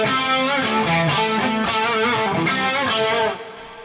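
An electric guitar plays distorted chords and lines through a dimension chorus effect on a Fractal FM9 floor modeler, producing a thick, shimmering 80s-style tone that rings out alone before cutting off.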